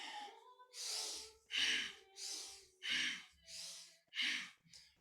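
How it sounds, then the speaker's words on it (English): Forceful rhythmic breaths through the nose during a breath meditation, about seven strong airy pulses in steady succession, close and alone, with a faint hum beneath the first few. "Eyes are closed down, breathing through the nose. Powerful breath."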